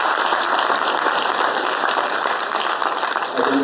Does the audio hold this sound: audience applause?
yes